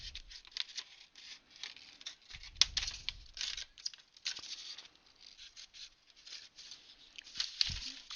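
Scissors snipping material for a DIY reusable 3D-printer filament spool: a string of small, sharp, close-up clicks and crisp cuts in an irregular rhythm, with a couple of firmer snaps standing out.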